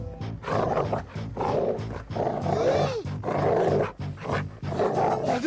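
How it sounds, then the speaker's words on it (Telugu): A dog barks and growls in rough, repeated bursts, loud and close, filling most of the stretch with short gaps between outbursts. "అదే కుక్క."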